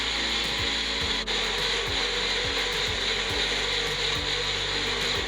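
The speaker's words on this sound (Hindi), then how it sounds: "इसका लिड बंद करके अब हमें कुछ नहीं करना है, बस इसे ग्राइंड करना है।" A kitchen mixer grinder whirs loud and steady while grinding green chutney, with a coarse mechanical rattle and ticking that carry through the whole stretch.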